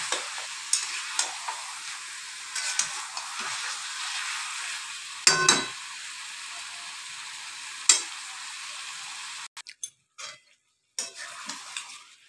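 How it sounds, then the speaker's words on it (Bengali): Chicken meat frying in a pan with Kashmiri chilli powder, a soft steady sizzle broken by several sharp spatula taps and scrapes against the pan, close and without talk, with brief gaps near the end. "এবারে মাংসটাকে কষাবো।"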